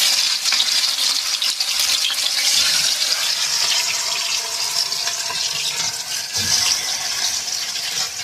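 Chicken pakoras fry in hot oil, a loud, dense, continuous bubbling sizzle close up with no pauses and no talk.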